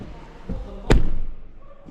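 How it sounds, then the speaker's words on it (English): A single solid thud of a Tesla Model Y car door shutting, close and sharp, with a brief low rumble fading after; soft talk sits in the background. "let me show you the sound of the door."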